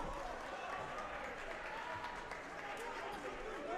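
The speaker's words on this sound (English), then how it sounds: "The crowd's on its feet, Victor, here." A boys high school basketball crowd cheers and applauds during a home game against Lawrence, a dense, steady roar of clapping and voices that fills the whole stretch without letup.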